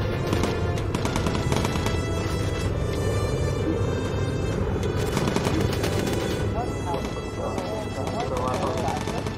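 Sustained machine-gun fire from an aircraft gunner in Bomber Crew, loud and dense, in continuous rattling bursts over a steady engine drone for about nine seconds, with talk heard over it.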